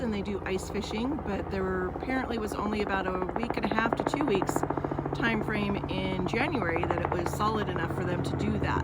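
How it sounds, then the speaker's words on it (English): A helicopter passes overhead as a low, steady rotor drone beneath someone talking continuously beside a partially frozen lake and hillside. "We have a helicopter flying over."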